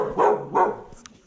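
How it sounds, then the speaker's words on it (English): A dog barks twice in quick succession at moderate distance in a hillside Italian town, with a faint higher yip following; no one speaks. "A dog barks"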